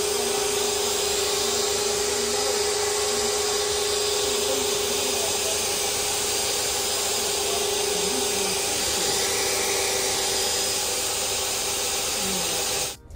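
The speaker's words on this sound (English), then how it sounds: "They've washed the car. They're just obviously hoovering now," Vacuum cleaner hoovering the interior of a car at a car wash valet, a loud constant whining roar that runs steadily for the whole stretch before cutting off at the end.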